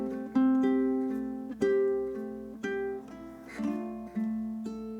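A ukulele plays the bridge variation of a song, each strummed chord ringing out and decaying before the next, steady and close with no talking.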